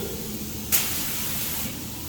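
Metalflake paint hisses through an Iwata LPH 400 spray gun with a 1.4 setup in a steady broadband rush, with a brief louder burst at the trigger pull, continuous and close throughout.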